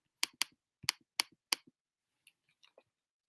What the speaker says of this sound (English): I'm just typing it.